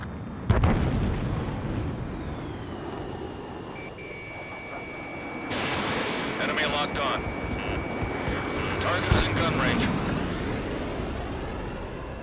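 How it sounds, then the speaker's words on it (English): A missile strikes its target in the Ace Combat 7: Skies Unknown flight game, a heavy boom bursting over the constant roar of jet engines, with further blasts and rumbling through the battle. "Missile hit."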